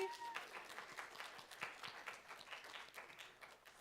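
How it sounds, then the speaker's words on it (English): Audience applause at a University of South Carolina student government meeting, with steady clapping of moderate loudness and brief voices over the start. "Let's give another round of applause for Emily."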